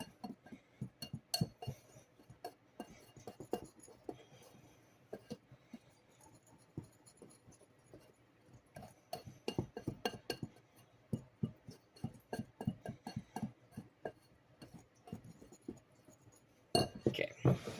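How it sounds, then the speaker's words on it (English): A whisk stirs flour, baking powder, baking soda and salt in a glass bowl, giving soft, irregular clinks and scrapes, close and quiet, that quicken in the middle and end with a louder clatter. "We're just going to give this a really good whisk, and we're going to set it aside."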